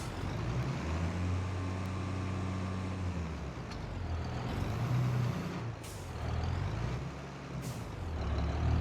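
Tractor engine straining in Farming Simulator 22, a heavy low rumble that holds for a few seconds, eases off and then surges back, with short hissing bursts breaking in over it.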